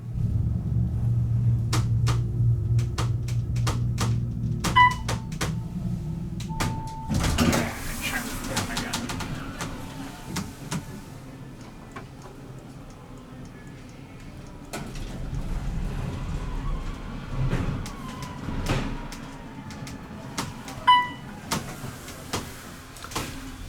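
An Otis Series 2 hydraulic elevator, modernized and in a hotel, runs its door with a slow sliding rumble and brief mechanical clunks, over a steady low machine hum, while people talk nearby.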